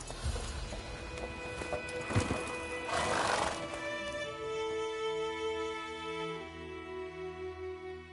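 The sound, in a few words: horse Roach whinnying in video game Witcher 3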